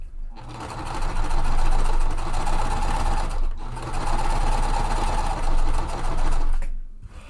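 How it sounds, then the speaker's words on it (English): A sewing machine stitches quilt half-square triangles in two long, fast, steady runs separated by a brief pause, loud and close, then stops. "I'm gonna sew this one at the same exact time."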